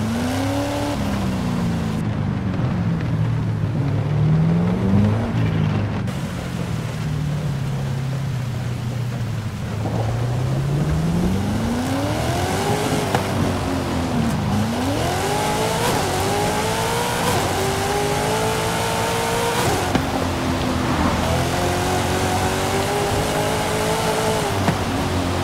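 A Ford Mustang Boss 302 engine driven in the Forza Horizon 5 racing game in rainy conditions, revving loudly and climbing through repeated gear shifts with rising and falling pitch, over a constant wash of rain and road noise.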